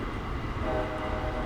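A diesel locomotive horn sounds at a whistle board on the Pacific Surfliner route from Irvine to Oceanside in Train Simulator 2015. A sustained blast over the steady rumble of the moving train, heard from the cab.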